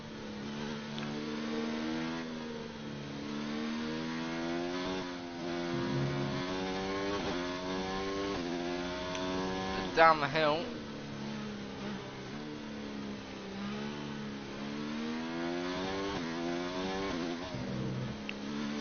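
An F2 car in F1 2019 on the Belgium GP circuit, its engine whining high and climbing through gears in repeated rising sweeps, steady and close, with a brief spoken phrase.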